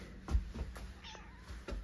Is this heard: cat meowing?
yes